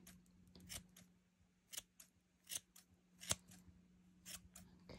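Scissors trim the yarn loops of a small crocheted bunny costume, giving several separate snips spaced irregularly through the quiet, some sharper and louder than others, over a faint steady hum.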